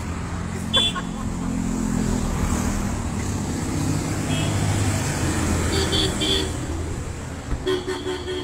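Roadside traffic on a highway lined with parked tourist vehicles, a steady engine rumble with several car horn toots sounding in short bursts near the start and toward the end, with voices in the background.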